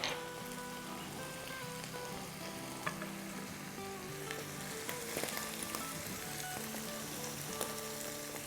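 Spices and seasoning fry in a hot pan for a dal, giving a continuous close sizzle with faint stirring clicks and no voices.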